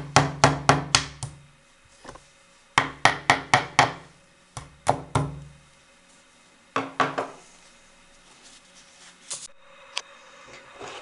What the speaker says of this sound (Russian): И теперь я закрепляю по окружности гвоздиками с противоположных концов сначала.